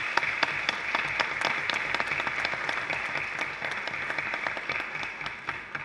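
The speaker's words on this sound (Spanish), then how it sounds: "Creo que merece un aplauso." An audience of small investors at a wind farm share event gives steady, dense applause, many hands clapping continuously at moderate distance with no talk over it.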